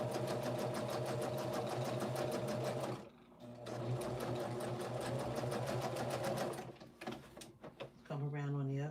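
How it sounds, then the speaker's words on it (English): Close sewing machine stitching quilt pieces a quarter inch from a line, running in fast steady bursts with a short pause, a brief stop near the end and a voice speaking at the close. "sewing on either side of the line at 1/4 inch"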